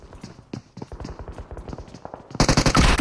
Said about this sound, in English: Shotguns versus UMP, and it's game over when you have the shotguns out